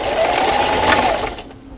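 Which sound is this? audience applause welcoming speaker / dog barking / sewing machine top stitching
sewing machine top stitching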